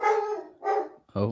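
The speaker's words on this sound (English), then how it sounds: "Is that your dog" A dog barks three short times close to the microphone during a live Newcastle United versus Tottenham Hotspur football watch-along, and a man briefly exclaims.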